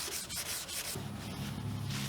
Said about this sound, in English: After about half an hour, I went back and wet sanded all of this smooth.